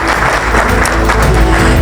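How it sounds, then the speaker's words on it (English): Loud, dense audience applause at an award presentation, a steady wash of clapping close by that holds without pause from start to finish. "So another round of applause to Stanford Healthcare Tri-Valley."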